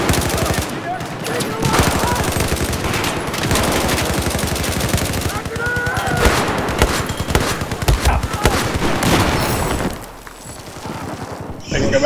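Saiga shotgun gunfire in Battlefield 4 on a naval map, with rapid, dense bursts of shots running almost continuously under game noise and a voice, thinning out near the end.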